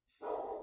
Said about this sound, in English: I'm sorry if you hear the dogs barking in the background.